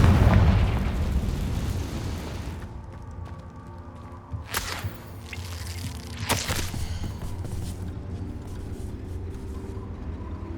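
A Confringo blasting spell explodes in the Hogwarts Legacy video game: a loud, dense burst opens, then two sharp booming blasts follow a couple of seconds apart over a steady rumbling game background.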